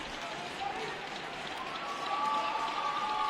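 The Alvirne-Milford Admirals home crowd cheers at a high school hockey game against St. Thomas Aquinas. The roar is continuous and swells louder toward the end.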